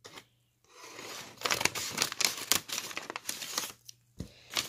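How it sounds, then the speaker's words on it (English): Scissors snip and crinkle through a plastic toy package for a Beanie Baby, close and quiet, in irregular bursts of cutting and rustling with short pauses. "If I can hold the scissors right."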